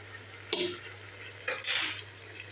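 Spices fry in a pan for an Algerian olive tagine, with two brief scraping stirs of a utensil over a soft sizzle and a low steady hum.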